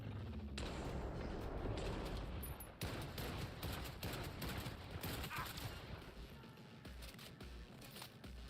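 Sustained heavy gunfire rattles through a Cyberpunk 2077 firefight, dense rapid shots and booms continuing for several seconds, loud and close with a brief break near the start.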